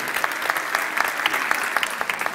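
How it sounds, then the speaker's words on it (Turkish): Audience applause for young performers at a children's concert in Sanliurfa, a steady, fairly close patter of many hands clapping throughout. "Alkışlar gençlerimiz için"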